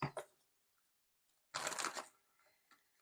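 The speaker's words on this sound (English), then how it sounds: "2 more shuffles, then we're going to cut up the deck and get into it." A deck of tarot cards is shuffled by hand, soft papery riffles in short bursts separated by quiet, with one longer, louder flurry in the middle.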